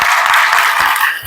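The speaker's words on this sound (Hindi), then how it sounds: "तो आपके लिए बहुत ताली सब बजाएं" Audience of women teachers and others at a Mahila Yog Shakti Divas celebration applauding, a loud, dense burst of clapping filling the whole short stretch.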